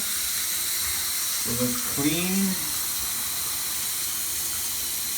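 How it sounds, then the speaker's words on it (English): Water runs in a steady hiss from a newly installed shower head, constant and fairly close throughout while a person speaks briefly over it. "Turn the water on."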